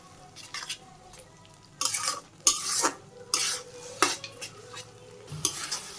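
A spoon stirs a thickening rice flour mixture with leafy greens in a cooking pot, giving irregular scraping and sloshing strokes, some louder than others, close by with brief pauses between.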